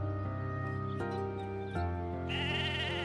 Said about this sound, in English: Oh, here's the sheep of E-main.